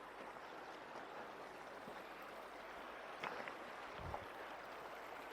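Faint steady rushing water of the River Wye flows past a kayak launch spot at Hay-on-Wye. The hiss is soft and continuous, with a couple of small splashes or knocks near the end.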